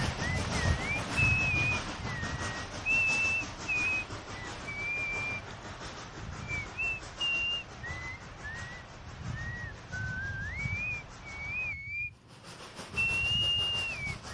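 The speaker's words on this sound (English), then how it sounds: "began whistling a small melody" Someone whistles a short wandering melody, clear and close, over a steady rumbling, rattling background like a moving rail car.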